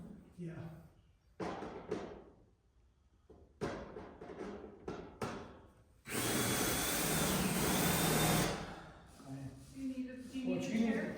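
A power drill runs in one loud sustained burst of about two seconds while old hand tools and signs are hung in an auction house, with bumps, knocks and people talking around it.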